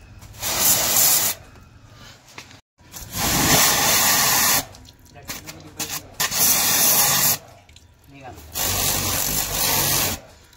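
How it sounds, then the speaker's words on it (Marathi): Water sprays in long hissing bursts against a car's lower body and doors as it is washed outdoors, the bursts broken by short pauses, with someone talking in between. "तर आपण गाडीची इथं पण पाणी मारलं पाहिजे खालून दरवाजाला"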